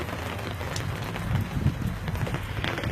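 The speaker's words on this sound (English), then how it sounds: "It's raining. It was raining much worse about 5 minutes ago, but it's still kind of drizzling." Light rain drizzling outdoors after a heavier shower, a steady soft hiss with faint patter and a low rumbling undertone throughout, continuous and fairly close, with no talking.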